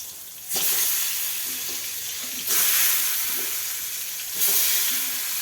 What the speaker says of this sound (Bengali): সবগুলো দিয়ে দিই বেগুন ভাজতে থেকে।